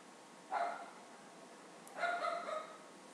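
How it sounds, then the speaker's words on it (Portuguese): A small, stressed dog gives two short, sharp yips a little apart, fairly faint and slightly distant in a quiet room, while a biscuit jar is being decorated nearby. "Não devemos dar atenção para o cachorrinho que está estressado"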